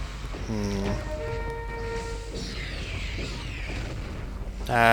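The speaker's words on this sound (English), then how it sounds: "This is his usual explosion thing" An explosion attack from a Frenzied Brachydios in Monster Hunter 4 Ultimate, a sustained booming burst that rolls through the middle of the fight, bracketed by tonal monster cries at the start and end.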